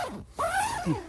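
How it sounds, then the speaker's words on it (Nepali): A tent door zipper is drawn open in a quick rasping pull, followed by a second shorter zip, close and clear with no talking. "यस्तो मजाको जिप छ जिप पनि यस्तो स्मुथ छ"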